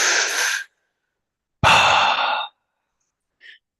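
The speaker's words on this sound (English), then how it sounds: "you do fountain breathing." Two long, forceful breaths during a fountain breathing breathwork exercise: a loud rushing exhale, then a pause and a second heavy breath of similar length, followed by a faint short puff.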